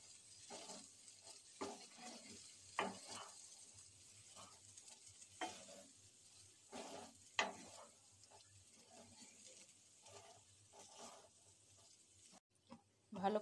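Soaked sago pearls are stirred with cooked vegetables in a pan for a vegetarian khichuri. There are soft, intermittent scraping and clinking strokes over a faint, quiet sizzle, with pauses between the stirs.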